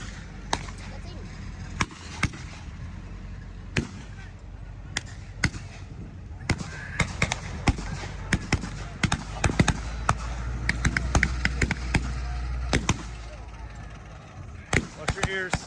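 Mortar and artillery fire at a WWII reenactment, with sharp, repeated booms and cracks at irregular intervals over a low rumble, some near and loud, others more distant.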